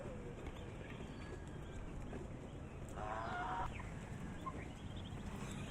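Chickens cluck quietly while feeding over a constant low rumble, with a brief louder burst of calls in the middle; ducks are not clearly distinguishable.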